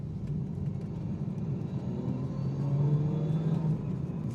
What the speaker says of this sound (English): I'll put my foot down a little bit and you can hear this car.